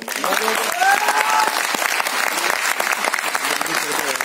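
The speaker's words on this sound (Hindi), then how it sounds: "एक बार जोरदार तालियां बजाओ यार।" Loud, sustained audience clapping at an anniversary celebration program, many hands together over the full stretch, with voices heard briefly early on.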